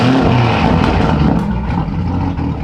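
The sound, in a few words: Mitsubishi Strada pickup exhaust on cold start revving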